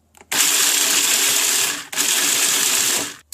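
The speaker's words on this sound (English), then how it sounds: "Now we combine the nuts. A couple of pulses should do it." A food processor pulses nuts for granola in two loud bursts, each about a second and a half long, separated by a brief pause, with whirring blades and rattling pieces.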